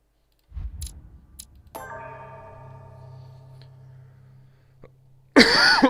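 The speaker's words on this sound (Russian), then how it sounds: "я все еще продолжаю кашлять" Several coughs come close and abrupt at the start, followed by a sustained chiming tone, then a final loud, harsh burst of coughing at the end.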